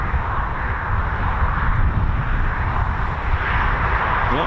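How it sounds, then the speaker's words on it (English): A Red Arrows jet's Rolls-Royce Adour engine rumbles with a deep, bassy, continuous roar at RAF Waddington, holding fairly steady and loud throughout without voices. "bassy Rolls-Royce Ardor engine"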